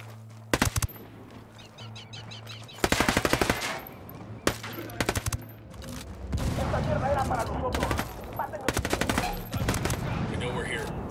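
Bursts of automatic and single gunfire from the video game Ghost Recon Wildlands, loud and close, in several separate volleys over a steady background hum, with a more continuous rattle of shots toward the end.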